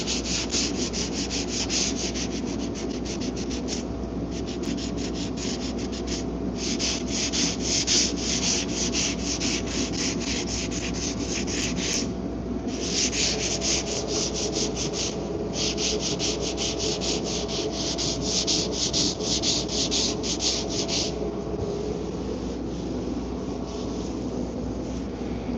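Steady, continuous sanding strokes level body putty on the fender of an Infiniti Q50 twin turbo during DIY auto body repair, a close, dense scraping rasp with brief pauses between passes, with no talking.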